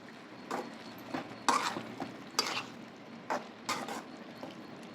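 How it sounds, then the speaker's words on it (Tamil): Prawns are stirred in a pan for prawn gravy, a soft background sizzle broken by a few bursts of spatula scraping and clinks, fairly quiet and close. "இறால் ஆட் பண்ணிவிட்டு நல்லா கிளறி விட்டுக்கலாம்"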